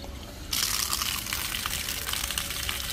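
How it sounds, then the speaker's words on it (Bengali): Tap water gushes steadily while mangoes are washed, starting abruptly after a brief quiet moment and then running loud and close without a break. "এই যে আমগুলো ধুয়ে রেখে দিই।"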